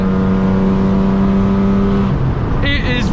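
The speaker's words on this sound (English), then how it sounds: "Can't drive this car because of how loud it is" A loud BMW E36 with a six-cylinder petrol engine drives along, a steady droning engine hum with a tonal whine that drops off near the end, heard from inside and close.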